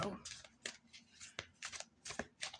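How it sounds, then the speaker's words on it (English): Tarot cards are riffled and shuffled close by in quick, papery flurries, with a soft voice murmuring in the background. "Shuffle them a little."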